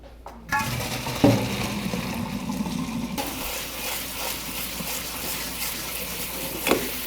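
Cold water runs and splashes steadily over vegetables in a metal pot or colander, with a few clinks of dishes, close by and fairly quiet.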